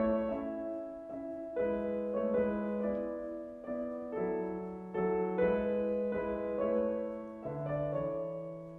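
Bösendorfer Imperial grand piano, Vienna Symphonic Library Synchron sample library, on a concert Decca tree microphone preset, playing a gentle sequence of sustained chords with steady rhythm, full and clear, alone with no talk.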